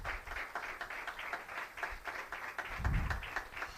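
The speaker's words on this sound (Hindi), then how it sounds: "ताली बजाएं।" Church congregation clapping together in a rhythmic, steady beat, many hands striking at a regular tempo, moderately distant and fairly quiet, with a brief low rumble near the end.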